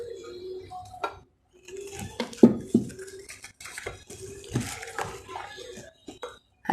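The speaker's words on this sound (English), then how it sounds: "I will mix this nicely." Maida flour being mixed in a bowl for a rum plum cake, with close, irregular clinks and scrapes of a utensil against the bowl, broken by short pauses, with little talk.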